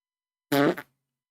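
A single short, loud fart, a brassy burst lasting about a third of a second that ends in a brief second puff, set against complete silence.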